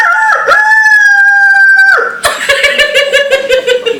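A human voice imitates a rooster crowing at dawn, a long loud sustained crow that breaks into a rapid, stuttering cackle close by.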